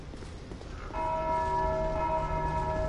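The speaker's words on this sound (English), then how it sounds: "That bell is an enemy just rang that bell, and it summons a whole bunch more enemies." An enemy rings a bell in the video game Dark Souls 2. After a brief muffled rumble, a sharp strike sets off a loud, sustained ringing tone that lingers and slowly decays.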